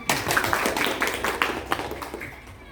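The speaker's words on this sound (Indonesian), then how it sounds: "Tepuk tangan." A small audience at a high school quiz competition claps briefly, a short scattered burst of hand claps that thins out within a few seconds.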